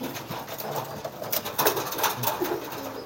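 Domestic pigeons cooing softly while brooding their eggs in a nest, low murmuring calls repeating close by amid light rustling, with no talking.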